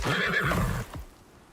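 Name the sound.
horse neighing in Icarus video game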